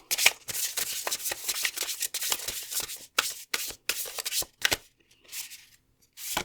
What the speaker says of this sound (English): So let's shuffle the other decks.